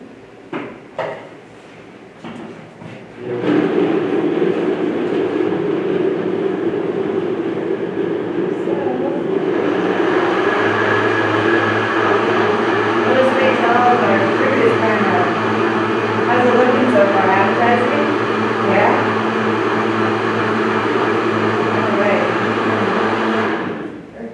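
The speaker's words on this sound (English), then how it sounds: "We got to plug in the blender." An electric blender whirs continuously as it blends aqua fresca, starting after a few seconds of handling noises and running loud and steady to the end, with a pitch shift partway through.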